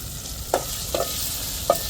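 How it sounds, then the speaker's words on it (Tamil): Tomatoes soften in a covered pan for a brinjal kuzhambu, giving a soft, continuous sizzle with three sharp spoon or lid clicks spaced across the moment. "இப்போ தக்காளி நல்லா வதங்கட்டும்"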